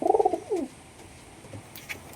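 A domestic pigeon coos close by in a short burst of soft, low, throaty notes during the first half-second, then fades into a quiet background.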